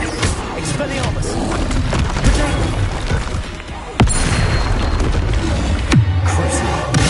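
Expelliarmus cast in the Hogwarts Legacy video game: a dense wash of game noise, with sharp, loud magical impacts cracking through near four and six seconds.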